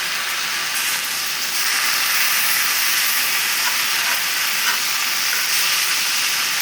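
Spinach and garlic sautéing in a pan, a steady, dense hiss and sizzle that holds evenly throughout with faint crackles, close up and with no voices.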